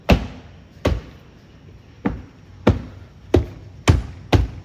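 Plastic trim clips on a Lexus LS430 door panel snap into place one after another, seven sharp close-up knocks at uneven intervals over quiet room noise.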